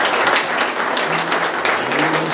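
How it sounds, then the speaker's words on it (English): A church congregation at a revival claps together in praise, a loud, dense and steady wash of hand claps close by, with faint voices mixed in. "How about we give God a hand clap of praise for the service tonight,"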